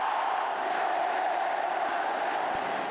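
Indian cricket crowd packed into a small stadium, a dense, steady roar of cheering voices filling the space continuously, loud and even throughout with no single voice standing out.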